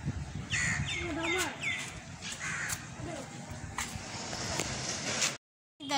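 Crows cawing on a rooftop, repeated loud nearby caws in quick bursts over outdoor ambience, with faint chatter in the background before the sound cuts off.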